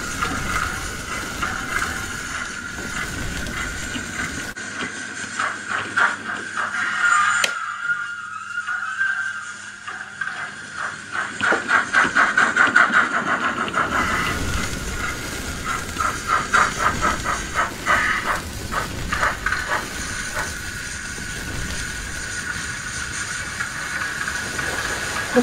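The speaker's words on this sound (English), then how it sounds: "Go stand back while he shunts the engine into the siding." Steam locomotive shunting into a siding at night, with loud bursts of hissing steam and rhythmic chuffing that fade out midway and then return, heavy and close.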